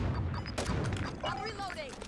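Gunfire from Call of Duty MW3 gameplay with a UMP45 loadout, a short burst of sharp shots and booms followed by whistling, ringing game effects, all dense and close.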